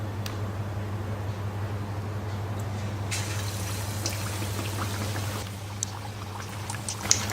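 Battered raw banana bajji fritters fry in hot oil with a steady, close sizzling hiss and a few scattered crackles and pops.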